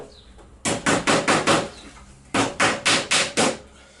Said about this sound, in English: I got these round wire nails, 1-inch nails, not much bigger than panel pins really, and I'm going to hammer them